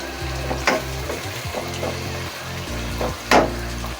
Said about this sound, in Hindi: प्याज डाल दी हमने। इसे चलाएं अच्छी तरह से।